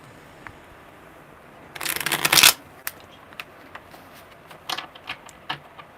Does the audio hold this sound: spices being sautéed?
no